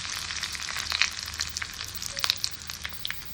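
A generous handful of curry leaves hits hot oil already crackling with mustard seeds and cumin, bursting into an uneven close sizzle with sharp pops and spits, no voices.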